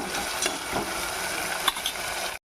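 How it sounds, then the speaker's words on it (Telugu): Aloo tomato curry is stirred in a pan in a village kitchen, with a continuous soft sizzle and a few scraping strokes of the spoon. It is brief and close, with no voices. "మధ్య మధ్యలో అలా తిప్పుకుంటూ ఉండాలి."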